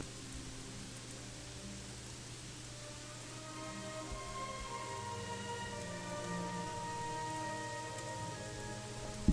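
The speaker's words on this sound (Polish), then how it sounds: "O, chyba pada na dworze deszcz." Steady video game rain in Gothic 3 patters on a surface, a soft continuous hiss with a low hum underneath, growing slightly louder toward the end.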